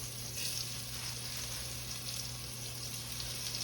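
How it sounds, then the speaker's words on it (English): Shrimp for Cajun shrimp sauté in a pan, giving a soft, continuous sizzle with fine crackle, fairly faint and steady over a low hum, with no one talking. "shrimp in here. We're just gonna saute these bad boys off here"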